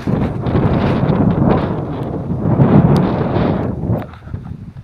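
Strong wind on a bike ride in Carmen, Baguio district, buffets the microphone in loud, continuous low roaring gusts that swell and ease for several seconds before dropping off near the end.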